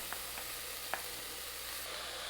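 Chopped meat sizzles as it goes into a chili pot, a steady hiss of frying with a few faint clicks and stirs, close and continuous.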